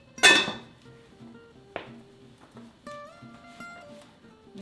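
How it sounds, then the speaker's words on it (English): A metal lid settles onto a cooking pot on the stove while chicken paprikash cooks, giving one loud clattering clank, then a lighter tap and ringing metallic tones that fade, close up with no voices. "Cover up the pot again."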